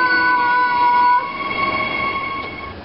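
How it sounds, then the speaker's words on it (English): A train rumbles steadily with a sustained high tonal whine that cuts off partway, leaving broadband rolling noise; no voices. "You on your first train trip, Kobe?"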